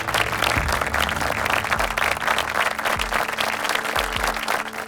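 Hearty applause from a quiz audience welcoming a father and daughter team from Vijayanagar parish, Indore, Madhya Pradesh at the National Family Bible Quiz 2023, continuous thick clapping throughout.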